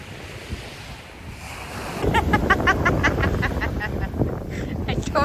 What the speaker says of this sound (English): The beach is the best place.